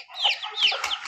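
A young rooster gives two quick, near, moderately loud clucking calls in about a second, with no one speaking.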